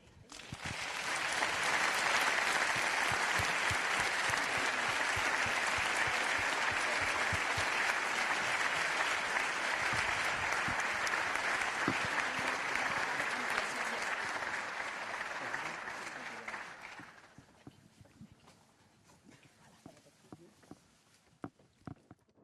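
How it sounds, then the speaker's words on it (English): A large conference audience gives a dense, sustained round of applause that swells quickly, holds steadily loud for about fifteen seconds, then fades into scattered claps and footsteps. "I would now ask you to give another round of applause of appreciation for President Metsola and President von der Leyen"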